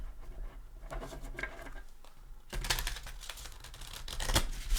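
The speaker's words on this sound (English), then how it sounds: "give it a few more shuffles before we begin" Crisp papery riffling and soft slaps of tarot cards being shuffled, several bursts in a row, close and fairly quiet, with no voices.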